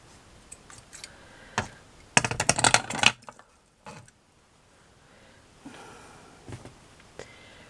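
Scissors cut the shape of a metal brooch by hand: a few scattered snips and clicks, then a brief burst of rapid crisp cutting, followed by quieter intermittent snips and handling noise.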